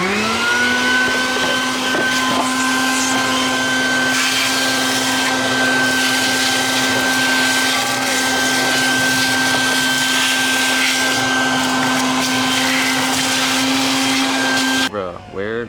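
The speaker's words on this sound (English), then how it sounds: "as soon as I started vacuuming, y'all need to see the amount of dirt that's just getting picked up" A vacuum cleaner roars loudly and steadily as it sucks dirt out of a car's interior, a constant high whine with small changes as the nozzle moves, then cuts off abruptly at the end.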